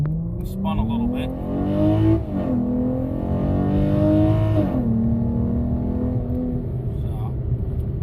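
A car accelerates hard with traction control off, its engine revving up through climbing gear pulls with brief drops between shifts, heard from inside the cabin while someone talks over it.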